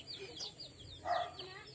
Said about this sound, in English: there's another one with chickens